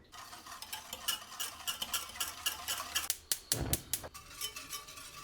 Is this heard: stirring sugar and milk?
yes